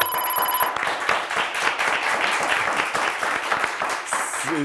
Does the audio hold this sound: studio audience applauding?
yes